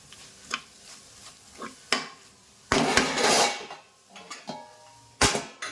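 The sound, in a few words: stirring spice mixture in a pan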